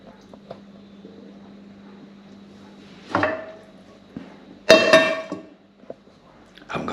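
A lid is set onto a pot of simmering spaghetti bolognese sauce in a quiet home kitchen, giving a couple of sharp metallic clanks and knocks amid soft handling noises.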